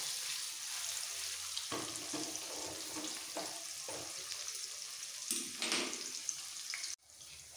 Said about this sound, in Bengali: একটু এপিট ওপিট করে ভেজে সাথে সাথে তুলে নেব।